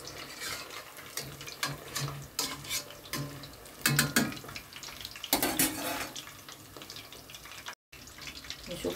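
Pieces of crispy fried chicken sizzle in a pan as they are turned over, a constant frying hiss punctuated by utensil clatters and scraping, with brief louder bursts and a moment of silence near the end.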